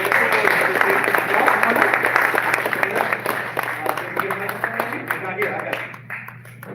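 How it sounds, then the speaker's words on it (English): An audience at a micro film festival gives a round of applause, a steady wash of many hands clapping that gradually thins and tapers off toward the end, with voices mixed in. "huge round of applause for Eliseo I. Gonzalez"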